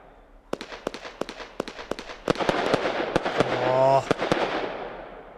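Fireworks in the video game Fireworks Mania launch and burst in a rapid string of sharp cracks, building into a dense crackling roar, loud and close with no voices.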